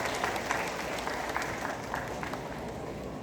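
At a high school graduation ceremony, an audience applauds steadily in a hall, the continuous clapping moderately distant and unbroken for the whole stretch.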